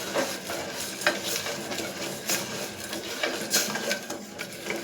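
Melting jaggery (karupatti) is stirred steadily in a pan, with soft continuous scraping and a faint bubbling sizzle, close up and with no voices.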